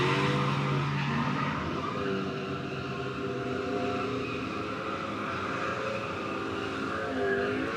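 Drift car in a live drifting session in Mexico sweeps past with sustained engine roar and wavering tire squeal, loud and steady throughout, the pitch sliding as it passes.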